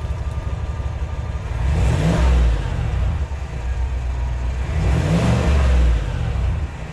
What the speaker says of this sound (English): Rev with the stock exhaust.